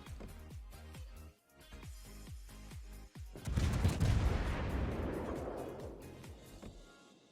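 World of Warships naval gunfire: a rapid series of sharp booming shell shots, then a heavy sustained blast rumble that slowly fades, all fairly quiet in the mix.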